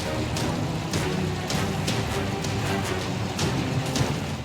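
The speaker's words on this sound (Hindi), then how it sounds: "बादल ऐसा मेहरबान है कि पानी बरसना थम ही नहीं रहा" Heavy rain falling steadily during flooding near the Chambal River, a dense continuous hiss with faint patter, moderately loud and without speech.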